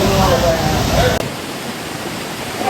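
Rushing water at Dhabi Dhabi waterfall in Yadagiri, Karnataka, a loud, steady broadband roar that cuts abruptly partway through and continues at a slightly lower, thinner level.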